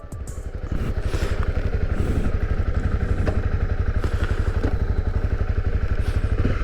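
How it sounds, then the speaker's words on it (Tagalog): A Honda CB300R motorcycle engine runs steadily at idle, with a close, loud, even rapid pulsing throughout and faint mechanical clatter on top. "uminit na yung motor"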